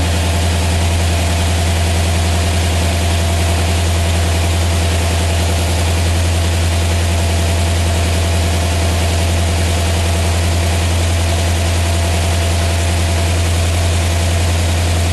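A 1976 Corvette restomod engine idles at around 1,300 RPM, a loud, steady, close low rumble with a constant deep hum that holds unchanged throughout.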